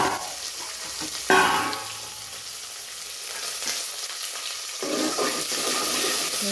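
Onion and garlic fry in hot oil for bhurta, a steady close sizzle with a sharp burst as ingredients hit the pan and stirring scrapes throughout, no voices.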